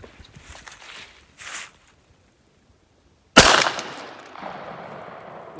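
Remington 11-48 shotgun firing a buckshot load with a BP1680 wad at an outdoor range: one loud, sharp blast after a few seconds of near silence and faint handling noise, followed by a decaying echo.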